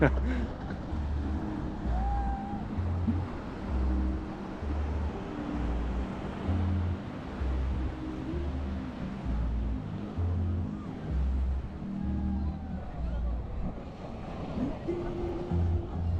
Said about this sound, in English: Going back to what I was saying about the waves this morning, they're actually pretty big, pretty powerful.